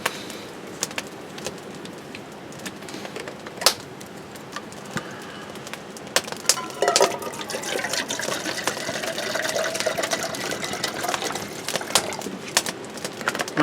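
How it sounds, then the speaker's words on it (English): Water runs into a kettle outdoors beside a campfire, a soft continuous trickle and splash that grows fuller partway through, with scattered clicks and knocks around it. "I'm going to get my kettle on and get my water starting to boil."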